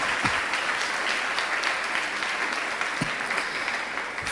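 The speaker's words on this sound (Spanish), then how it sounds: "Dale un aplauso a Jesús por ello." A church congregation during a sermon gives a steady, even round of applause, a continuous wash of many hands clapping from start to finish with no talking.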